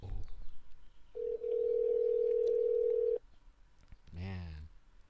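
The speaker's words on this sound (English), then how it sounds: "He does not know we are calling him live." A steady telephone dial tone hums for about two seconds, cuts off, and after a pause a rising ringback or dialing tone follows as a call is placed live on air.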